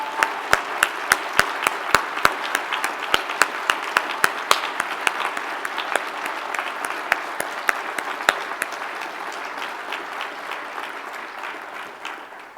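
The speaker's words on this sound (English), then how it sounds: "so that we can give you a round of applause" A seated audience at a cancer research grants and awards ceremony claps for award recipients, a few sharp near claps over a broad steady wash of applause that slowly thins and fades.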